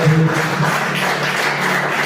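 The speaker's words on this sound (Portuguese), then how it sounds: "aplauda a Jesus forte" Congregation in a church service applauding for Jesus, a dense wash of clapping with a low sustained tone underneath, steady throughout.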